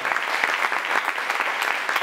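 Audience applause at a women-in-technology panel event, a dense, even burst of many hands clapping close by, sustained throughout the short moment.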